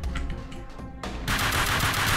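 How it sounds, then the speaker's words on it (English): Gunshots in Max Payne 2, a rapid string of sharp reports followed by a dense, loud burst of continuous fire with no talking. "those three shots should have been all headshots"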